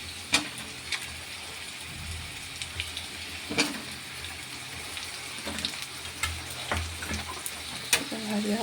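Pre-fried papaya pieces and vegetables for a milky shukto sizzle steadily in a pan, with intermittent sharp clicks and scrapes of stirring over a soft, continuous hiss.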